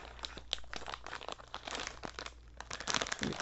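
Crinkly plastic packaging of Japanese dried crabs being handled and snipped open with scissors, a close, quiet run of irregular crackles and crunches with short sharp bursts.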